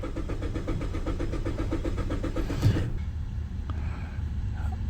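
A 2017 Mazda CX-5 2.5L with a long-crank fault turns over in a rapid, even rhythm of starter pulses for nearly three seconds, then catches and settles into a low, steady idle.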